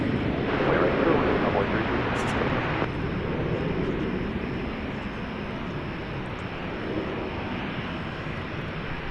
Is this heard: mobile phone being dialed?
no